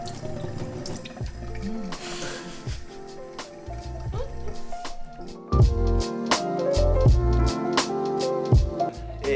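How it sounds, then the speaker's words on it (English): Tap water running from a faucet into a sink in a Sydney lodging, a steady splashing stream with dripping, continuing under occasional voices nearby. "you can drink the tap water"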